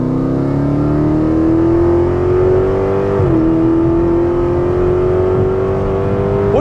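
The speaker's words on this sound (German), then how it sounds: "Fahrmodus ist Sport und ich drehe einfach mal bei 80 rein in den Karton." A Dodge Charger Hellcat, 717 hp, in Sport mode with exhaust flaps open accelerates hard from about 80 km/h, a loud continuous engine roar climbing steadily in pitch with one brief gear-shift dip midway.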